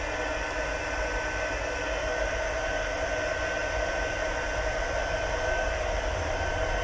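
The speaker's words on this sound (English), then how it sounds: "See, it changes pretty quick when you heat up your gun." A heat gun warming vellum for heat embossing blows a continuous, steady roar of hot air, loud and close, with no change and no talking.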